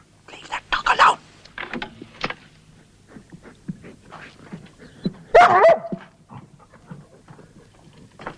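A very large dog gives a few short barks and yips, close by and fairly loud, while a person speaks calmly over them indoors.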